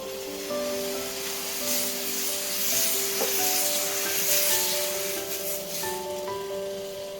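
Multigrain dosa batter sizzles on a hot pan with a steady, close hiss that runs throughout, overlaid by sustained melodic background tones.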